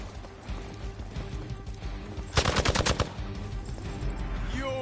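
A rapid burst of gunfire rattles in Marvel's Midnight Suns, a dozen close, sharp shots in quick succession over a busy background of game noise and movement.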